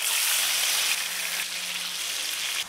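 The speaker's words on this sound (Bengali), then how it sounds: "এখন ম্যারিনেটেড মাছগুলো ফ্রাই করে নেব।" Marinated fish frying in hot oil for a Bangladeshi rui fish curry, a steady loud sizzle and crackle close up, with no talking.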